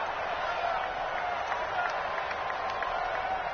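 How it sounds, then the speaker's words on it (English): A football video game stadium crowd sends up a steady, dense roar of cheering and applause that holds level throughout and builds ahead of a big third down, with no commentary over it. "the crowd getting into it as we come up on a big 3rd down"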